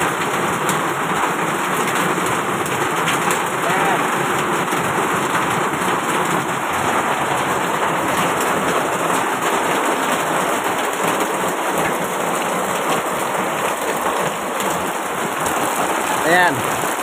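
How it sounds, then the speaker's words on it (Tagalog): Heavy rain pours steadily onto a street in a Manila barangay, a dense continuous hiss and patter with occasional nearby drips, while a voice speaks faintly beneath it. "Ayan, umulan oh."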